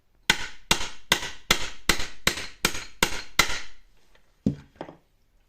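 Bushings are knocked out of the suspension shock of a Kukirin G2 Master electric scooter with eight sharp, evenly spaced metallic impacts. A pause follows, then two more knocks, all close and loud.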